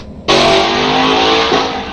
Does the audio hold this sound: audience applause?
no